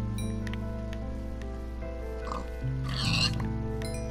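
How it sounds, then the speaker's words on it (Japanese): Pigs in Minecraft give a few short oinks in the middle and near the end, under game background music with light rustling footsteps. "あ、豚いっぱい。"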